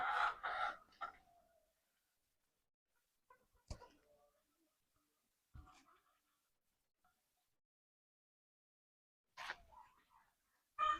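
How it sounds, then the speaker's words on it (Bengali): A few short, scattered chicken clucks and squawks break an otherwise quiet stretch, each call brief and fairly close. "এখন তো আমার দুই বাচ্চা মুরগি ধরবে"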